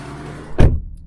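A single solid thump as the door of a 2024 VW Tiguan 1.4 Allspace shuts, a deep, short, muffled close heard nearby after a low background rumble.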